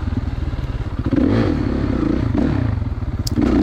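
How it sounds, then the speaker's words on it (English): A 2016 Kawasaki KX450 dirt bike engine roars steadily on an OHV trail at John's Peak, loud and close with throttle surges, plus rattling and thumps from the rough ground. "Riding the 2016 KX450."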